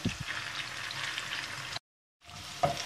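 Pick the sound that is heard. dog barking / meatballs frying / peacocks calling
meatballs frying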